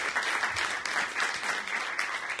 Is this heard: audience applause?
yes